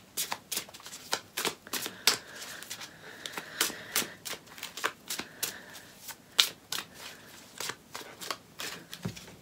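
A tarot deck is shuffled close up, the cards riffling in quick, steady bursts of crisp slapping clicks for several seconds, with cards being pulled.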